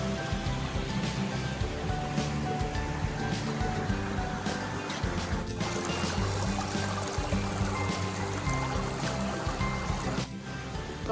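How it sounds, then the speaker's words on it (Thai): A forest waterfall pours steadily in woodland during a mushroom-foraging walk, its broad, continuous rushing wash filling the scene at close range without pause. "ว่างดูน้ำตกตรงนี้นะคะ"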